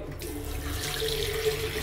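Water gushes steadily from a bathroom faucet at the Ban Ampawa Resort and Spa in Thailand, a close, continuous running stream with a brief clatter at the start.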